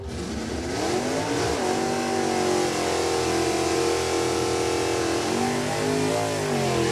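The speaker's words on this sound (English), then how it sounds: "Man, that car does cool wheel stands, doesn't it?" Drag racing car launching into a wheel stand at an NHRA dragway, a loud, sustained engine roar with rising and falling pitch as it revs and pulls hard down the track, close and continuous for several seconds.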